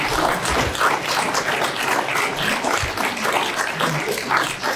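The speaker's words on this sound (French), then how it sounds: "Je vous propose quand même d'applaudir nos 4 intervenants" A conference audience at a disability policy panel applauds four speakers, with steady, dense clapping filling the room at an even level throughout.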